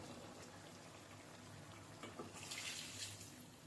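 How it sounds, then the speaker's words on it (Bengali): Water poured into a pot of slowly simmering mutton curry on low heat, a steady bubbling hiss that swells into a brighter splashing pour near the end. "আমি এখানে একটু সামান্য জল এড করবো।"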